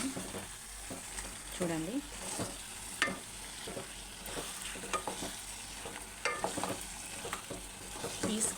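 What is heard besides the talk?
fish pieces frying in oil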